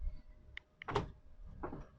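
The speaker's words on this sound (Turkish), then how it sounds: "Kilitleme tuşuna basıyorum." Pressing the door lock button on a seventh-generation Honda Civic VTEC with a faulty door lock motor gives a brief, close mechanical clunk and a short, faint whir of the actuator in a quiet car.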